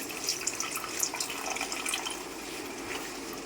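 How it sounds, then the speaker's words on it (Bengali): A little water is poured into a pan of simmering quail meat curry, giving a continuous splashing, trickling sound with faint drips, close and steady with no voices. "এবার এখানে আমি অল্প জল দেব।"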